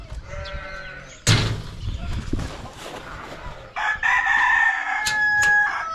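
Sultan chickens in a farmyard with sheep nearby, giving clucks and a loud crow-like call, followed by sustained bleating or crowing with some background movement.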